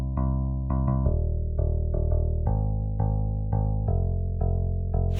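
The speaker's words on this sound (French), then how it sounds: "j'ai été prendre basse guitare Fender," A dry Fender bass guitar sound from a software instrument plugin, with no effects, plays a simple line of about a dozen plucked notes, each sharp attack fading into a deep, steady sustain, with no talking.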